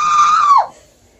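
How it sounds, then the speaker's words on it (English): A loud, sustained high-pitched scream that holds steady for about half a second, then slides downward and breaks off, leaving near silence. "I don't know why you're screaming!"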